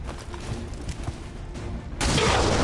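Weapon fire in the tactical strategy game XCOM 2, a dense crackling burst of shots that grows suddenly louder and fuller for the final moments.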